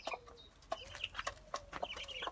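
Chickens clucking in a garden henhouse with a mother hen and young chicks, soft repeated clucks and short calls, moderately close and fairly quiet.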